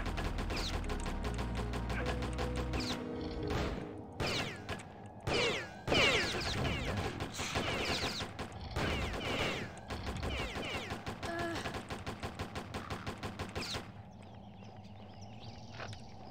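Repeated shotgun blasts in the video game Postal, loud and close, with rapid irregular shots in bursts over a continuous game backdrop that thins out near the end.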